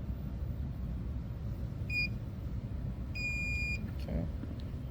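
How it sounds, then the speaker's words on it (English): A Grav M20 engraving machine emits two short electronic beeps, the first brief and the second longer, faint over a steady low hum of machinery. "wait for the machine to beep"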